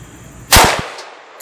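A single loud rifle shot fired with regular, non-green-tip ammunition at a target, a sharp close blast with a quick rattling echo that fades within a fraction of a second.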